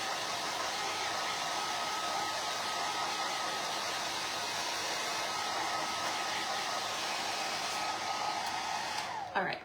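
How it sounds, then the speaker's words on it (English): Hair dryer drying painted pumpkin shelf sitters, a loud, steady blowing roar held without a break, ending with a brief shift as it is moved or switched off. "I'm gonna dry them just a little bit more"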